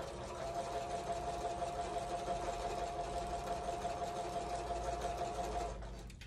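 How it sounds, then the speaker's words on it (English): A domestic sewing machine stitches half-square triangle quilt pieces in one continuous, even whirring run, close and steady, stopping abruptly near the end. "So I've got my sewing machine over here."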